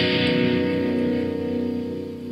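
Final sustained chord of a song on electric guitar played with light distortion, ringing out loud and close, then slowly fading with a slight wavering decay.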